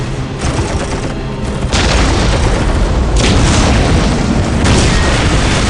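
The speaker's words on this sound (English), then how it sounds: "We will silence that Orc artillery." Ork artillery explosions in a Warhammer 40,000: Dawn of War battle, a loud, dense barrage of booms and blasts that thickens after the first second and rolls on continuously with no voices.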